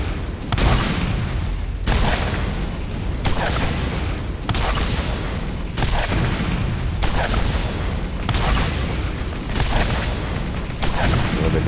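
Explosions in the shooter video game Borderlands: a loud, dense series of heavy booms repeating roughly every second or so, one after another over a constant rumbling background.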